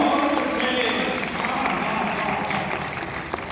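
A crowd applauds steadily at the Dainik Jagran Kavi Sammelan, a Hindi and Urdu poetry gathering in Lucknow in 2024, a broad sustained wash of clapping from a large audience with a voice carrying over it.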